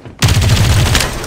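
Rapid automatic gunfire from the shooter video game Farlight 84, a loud continuous burst of rattling shots that kicks in sharply and keeps hammering steadily without pause.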